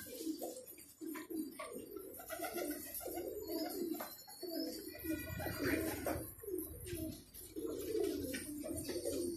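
Pigeons cooing in a loft, several birds calling in overlapping low throaty coos, close and continuous, with rustling and a faint background rumble.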